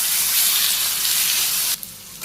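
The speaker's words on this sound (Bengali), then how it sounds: "নাড়াচাড়া করে ভাজি করে নিই।" Potatoes seasoned with salt, turmeric, green chili and chili powder fry in a wok with a loud, steady, hissing sizzle that cuts off abruptly near the end, with no voices.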